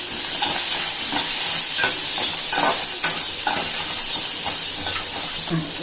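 Crushed crab legs sauté in a hot pan for crab rasam with extra turmeric, a continuous loud sizzle and hiss broken by intermittent scraping stirs, with no talking.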